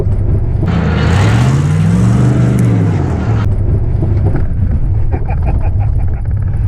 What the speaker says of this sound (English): Should we do a 1-2 shift?